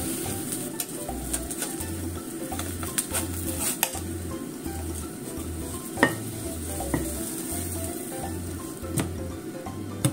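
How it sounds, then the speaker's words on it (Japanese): A nagaimo (Chinese yam) chijimi pancake fries in a pan with a steady, soft sizzle throughout, a low rhythmic hum pulsing underneath and a few sharp clicks of utensils against the pan. "5分間ほど焼きます。"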